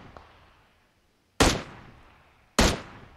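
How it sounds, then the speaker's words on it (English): Two loud, sharp gunshots ring out in a battle royale video game, over a second apart, each with a short decaying tail, after a faint earlier pop; no one speaks. "They hear gunshots on the top."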